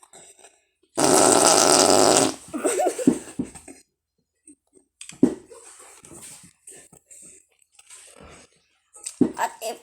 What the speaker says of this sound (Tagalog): At isa pa pong malakas na utot.